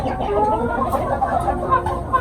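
A purebred Ayam Cemani-type rooster kept in a rooftop poultry setup clucks and murmurs steadily at close range, with a continuous low chatter of fowl sounds throughout.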